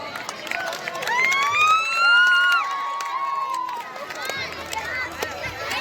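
Guests being welcomed at a school event in Keshod with dense, continuous crowd clapping, overlaid by a loud wavering siren-like whistle that rises and falls midway.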